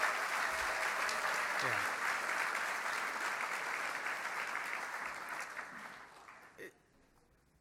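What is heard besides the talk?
audience applause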